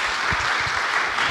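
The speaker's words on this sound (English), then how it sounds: "All right, folks, applause." Audience applause right after a talk by two rabbis, a dense, loud burst of steady clapping from a room full of listeners, heard close with no voices over it.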